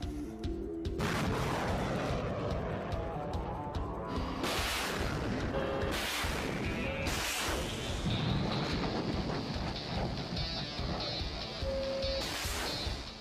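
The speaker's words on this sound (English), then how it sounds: "This baby even allows the crew to fire off the full payload of 12 missiles from the safety of the vehicle's cabin." A rocket launcher vehicle fires a full salvo of up to twelve missiles, a string of loud roaring blasts and whooshes one after another across the stretch, heard outdoors with wind buffeting the microphone.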